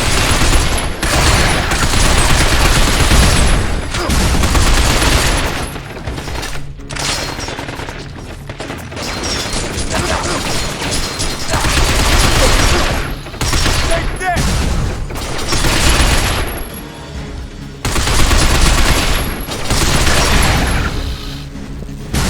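Heavy gunfire rages in the video game Binary Domain, loud bursts of automatic weapons and booming blasts in dense, near-constant volleys, with character voices speaking over the combat.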